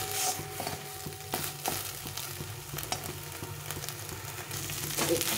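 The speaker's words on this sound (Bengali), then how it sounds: "এখন এটাকে ভালো করে ভেজে নিতে হবে, একদম শুকনো শুকনো করে ভেজে নিতে হবে" A garlic and black cumin paste fries in a pan until dry, giving a soft, steady sizzle broken by repeated sharp scrapes and taps of stirring, with no voices.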